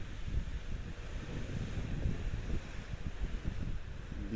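Steady wind buffeting and roaring across the microphone on the deck of the cruise ship Mariner of the Seas, with a low rumbling gusty texture throughout and no voices.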